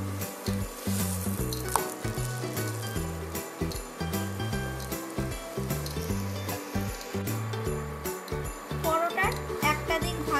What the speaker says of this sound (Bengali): এইভাবে পরোটাটা ভেজে নিতে হবে।